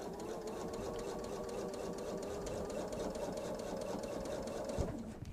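A sewing machine runs on its own under its start button, stitching a pillow cover in a steady, continuous close-up whir for several seconds with a brief knock near the end.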